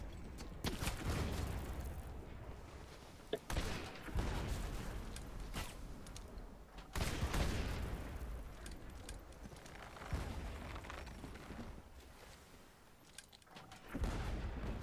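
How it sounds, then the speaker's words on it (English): Ship cannons firing in the pirate video game Blazing Sails, several heavy booms spaced seconds apart with rumbling decay between them, fairly loud and without talk. "Can you fire the right cannon?"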